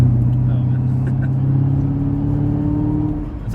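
A 2019 Chevrolet Camaro ZL1 V8 drones low and steady around 2,000 RPM while downshifting in traffic, a loud close cabin rumble that eases slightly toward the end, with someone talking over it.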